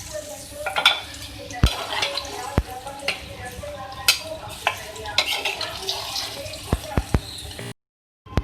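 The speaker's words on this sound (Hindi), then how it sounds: "अब हम भिंडियों को फ्राई करेंगे ऑयल में" Okra (bhindi) fries in oil in a karahi with a steady sizzle, while repeated sharp clanks of a utensil against the pan and stirring scrapes cut through. A voice talks over part of it.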